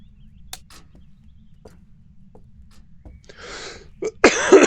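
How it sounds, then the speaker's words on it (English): Someone coughs close to the mic: scattered small clicks and noises lead up to a short cough burst, then a louder, harsher cough at the end, with no speech in between. "Apologies for the coughing."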